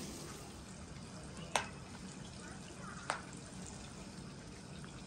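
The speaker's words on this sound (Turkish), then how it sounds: "Şu balıklarımı da kızartayım da ondan sonra içeri geçelim." Fish frying in a pan in a home kitchen, a steady soft sizzle running throughout with two brief sharp clinks of a utensil, fairly quiet and close.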